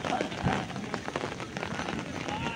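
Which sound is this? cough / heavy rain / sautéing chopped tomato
heavy rain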